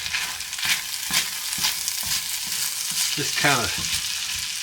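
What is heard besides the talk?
creamed corn frying in a pan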